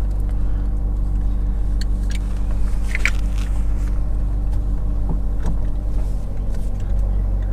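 A Suzuki Ignis GX MT is heard from inside while driving, a steady low engine and road rumble throughout, with a few faint clicks and knocks over it.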